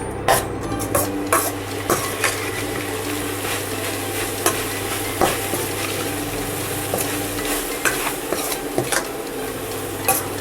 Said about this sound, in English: Mix it nicely and check the seasonings.